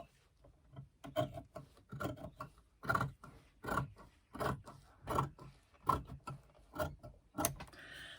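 Scissors snipping through the fabric pocket piece of a laptop bag, a faint, rhythmic series of about a dozen crisp cuts and rasps, evenly spaced and close, with no talking.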